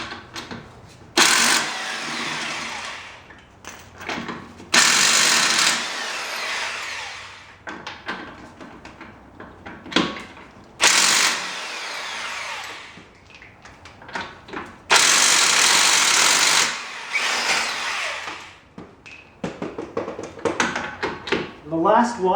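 Bursts from an impact gun taking wheel lug nuts off in an echoing garage come in several short loud rattling runs, separated by quieter handling noises and a person talking.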